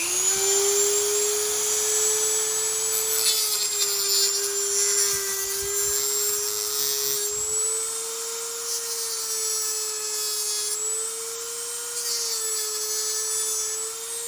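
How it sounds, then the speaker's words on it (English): Dremel rotary tool fitted with a cutting blade slicing into a plastic sonic screwdriver toy, a loud, steady high-pitched whine with grinding hiss running continuously and close up. "Get your Dremel out. Get a cutting blade."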